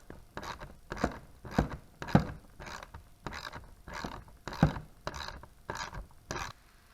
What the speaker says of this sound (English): now we're just going to tighten up this nut on each side